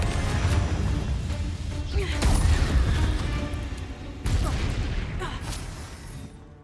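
Spell casting and magical blasts in Hogwarts Legacy, a steady roaring wash of crashes and booms with sharper impacts near the middle and a sudden hit late on, fading at the end.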